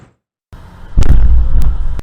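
A gas explosion at Platinum Printing, a Chandler print shop, caused by a leak from a faulty pipe: a sudden loud deep blast after near silence, followed by a rumbling roar and sharp cracks.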